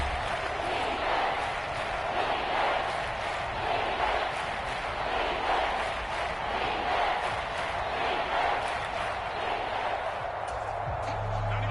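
Stadium crowd in a Madden NFL football video game, a steady, fairly loud roar of cheering that swells and dips slightly and runs unbroken for about twelve seconds.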